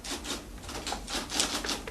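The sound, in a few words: typing on a typewriter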